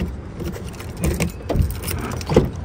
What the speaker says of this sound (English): My car key is dead.